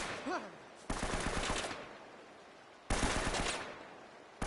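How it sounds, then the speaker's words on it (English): Two bursts of rapid automatic gunfire in Uncharted: Drake's Fortune, each a loud rattling volley lasting under a second with an echoing tail, separated by a quieter gap; a brief voice sound comes at the start. "Please stop shooting."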